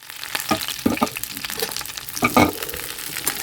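Ripe red chillies frying in hot oil for an Andhra-style tomato and red chilli pachadi, with a steady close sizzle and crackle broken by a few louder spatters and stirring scrapes.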